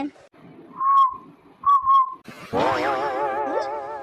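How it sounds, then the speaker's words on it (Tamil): A person whistles a few clear, short tonal notes nearby, then a longer warbling whistle with a wavering pitch follows. There is no talking over it. "நம்ம பின்னாடி யாரும் விசில் அடிக்கிறாங்க"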